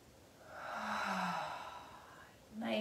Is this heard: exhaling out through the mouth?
yes